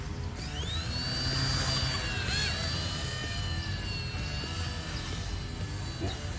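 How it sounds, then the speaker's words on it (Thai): An Esky F150 V2 RC helicopter starting up, its electric motor whining steadily with rotor tones rising and sweeping in pitch, close and continuous from start to finish. "มาดูวิธีการสตาร์ทของฮอรุ่นนี้นะครับ"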